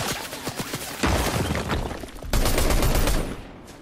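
Rapid gunfire from the video game Fortnite rattles out in dense bursts of sharp shots, loud and close, with a steady crackling barrage continuing throughout.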